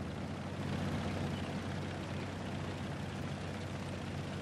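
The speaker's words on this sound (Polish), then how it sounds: "Nie, chyba to BMP tak po prostu brzmi." BMP armoured vehicle engine in the War Thunder video game, a continuous low droning rumble with a steady, dense texture, heard alone without speech.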